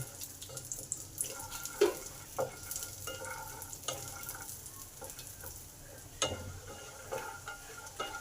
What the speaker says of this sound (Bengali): আমি তেল দিয়ে ভাজছি